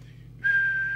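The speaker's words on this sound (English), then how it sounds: "Let's check that with the whistle test." A single steady whistle is blown into a Manor Kestrel UK CB27/81 mobile CB radio during a repair and adjustment, rising in after a faint murmur and holding a clear sustained tone with a low hum beneath.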